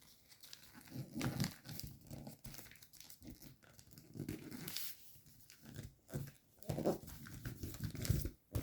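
Paper crinkles and creases in quiet bursts as sheets are folded for an origami gunboat, soft rustles and crisp crunches rising and falling over several seconds, with no talking.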